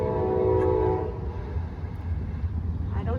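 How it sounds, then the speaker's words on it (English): A train rumbles past nearby, its horn sounding loud and sustained for the first second before the steady, heavy rolling rumble of the railcars continues to the end. "I don't know if you can hear me over the train,"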